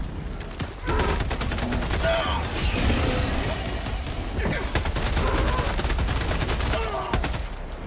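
Rapid gunfire in the shooter game Helldivers 2, dense bursts of automatic shots with booms and mechanical clatter, loud and close, under occasional voices talking.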